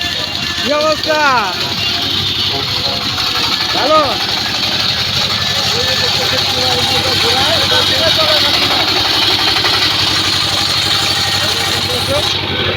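The engine of a motorized tourist boat at Moinot Ghat in Dohar drones steadily and evenly throughout, while people talk over it.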